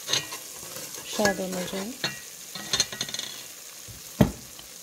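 Spice masala sizzling in a pan for Koyel fish curry while a spoon stirs it, with soft scraping strokes and a few sharp clacks against the pot, and a brief spoken phrase over the cooking.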